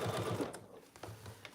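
A sewing machine stitches a seam closed on handmade oven mitts, a short close run of rapid mechanical chatter that pauses partway, then resumes in lighter bursts.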